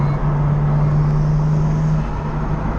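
Nissan Skyline R32 with a big-turbo setup idling steadily, a low sustained engine drone with a constant hum throughout, close and fairly loud, no talk.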